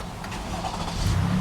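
A 2018 Toyota Highlander's 3.5-liter V6 fires up via push-button ignition, settling into a steady idle that swells slightly near the end, close and alone with no talking.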